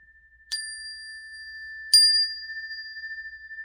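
Two clear metallic strikes on a singing bowl ring out about a second and a half apart, each leaving a long, pure sustained tone with shimmering overtones that slowly fade.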